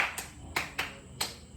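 Four sharp, separate hand claps in an uneven rhythm during a classroom clapping ice-breaker, close and clear against a quiet room.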